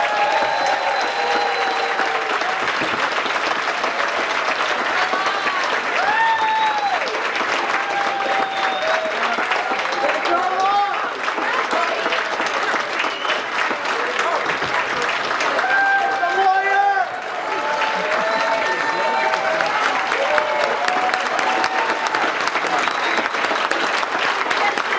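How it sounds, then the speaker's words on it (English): Applause from a crowd at the NHLF 2013 keynote, greeting Chris Lawless. Dense, steady clapping carries through the whole stretch, with whoops and shouts mixed in and a brief dip partway through. "everyone should give a really huge round of applause to Chris Lawless"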